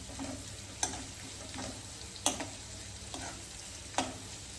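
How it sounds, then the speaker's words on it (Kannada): Onions fry in butter at a low, steady sizzle while a utensil stirs and taps against the pan in sharp clicks roughly every one and a half seconds, with no talking. "ಆನಿಯನ್ಸ್ ಚೆನ್ನಾಗಿ ಫ್ರೈ ಆಗಬೇಕು, ಗೋಲ್ಡನ್ ಕಲರ್ ಬರಬೇಕು."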